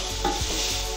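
Peas being stirred into keema frying in oil in a pan: a soft continuous sizzle with a couple of scraping stirs of the spoon, close and fairly quiet, with nobody talking.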